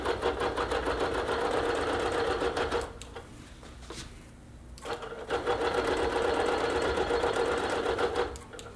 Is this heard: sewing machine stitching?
yes